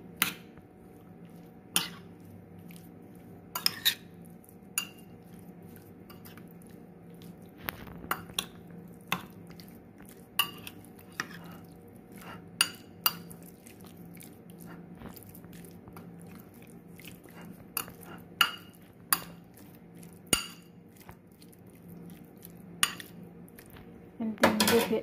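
Spices such as turmeric, cumin, paprika, black pepper and salt being mixed in a bowl for a homemade masala, heard as repeated close clinks and scrapes of a utensil against the dish at an irregular pace, with no talking.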